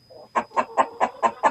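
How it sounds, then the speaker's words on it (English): Chickens cluck six times close by in an even, quick rhythm, each cluck a short clear burst. "Damn chickens."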